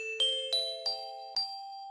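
Glockenspiel struck with hard mallets in its low range, four bright metallic notes ringing out one after another in a steady rhythm, close and clear with long sustain and no voices.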